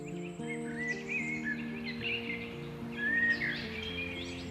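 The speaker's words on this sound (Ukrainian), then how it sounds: "Чи може бути кращий акомпанемент до прогулянки лісом, аніж пташиний спів?" Birdsong in a mossy forest: several clear chirps and warbling phrases from a few birds, moderately near, over a soft sustained musical drone.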